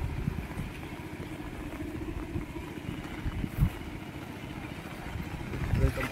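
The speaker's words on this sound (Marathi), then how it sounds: "आता भात लावणी करताय समोर ट्रॅक्टरने करताय." A tractor works a flooded, muddy rice paddy during transplanting in rainy Konkan, its engine a steady low rumble at moderate distance with occasional louder knocks and splashes.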